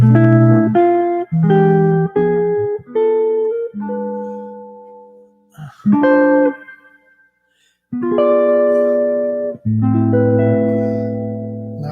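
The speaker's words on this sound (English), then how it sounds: "Now what we're going to do is we're going to play a lick." A short guitar phrase: a quick run of plucked notes and chords, some held and ringing, played alone with brief pauses between groups.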